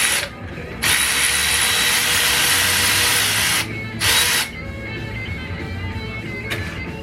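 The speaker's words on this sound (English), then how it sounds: "When you're old, you gotta have power tools." Power tools whir in loud bursts in a Corvair racing shop, a drill or impact tool running in several runs with brief pauses between them.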